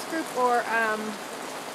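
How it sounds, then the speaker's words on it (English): Heavy pouring rain makes a steady, dense hiss throughout, with a person talking briefly over it near the start. "it is pouring rain. It is pouring right now."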